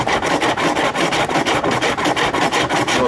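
A hand rasp files a Type M plastic front bumper bar for a Nissan Skyline R33 GTST under repair, giving steady rhythmic scraping strokes, about ten in three seconds, loud and close with no talk.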